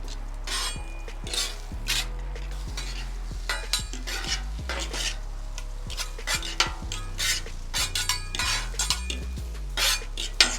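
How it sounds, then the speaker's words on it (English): Metal spatulas scrape and clack repeatedly against a hibachi griddle while vegetables are flipped, with sharp irregular clinks over a steady low hum and faint sizzle. "let's go ahead and flip the vegetables"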